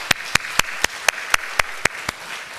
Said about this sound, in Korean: 우리 처음 오셨는데 우리 큰 박수로 환영하도록 하겠습니다.